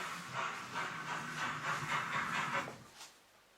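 A ROCO Ty2-911 model steam locomotive runs along its track with a quiet, close hissing and rhythmic chuffing pulses, softly fading out at the end with no talk.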